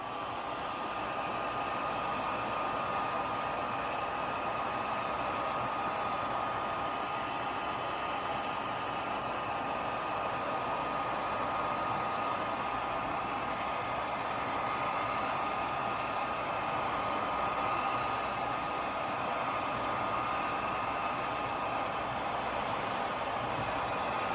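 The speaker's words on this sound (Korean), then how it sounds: "이렇게 뭉친 부분이 있으면 뭉치지 않게 자 드라이로 살짝 말려 볼게요." A hair dryer blowing steadily on low to dry a dyed leather handbag, a constant even whoosh at moderate distance with no talk.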